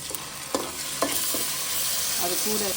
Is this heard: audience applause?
no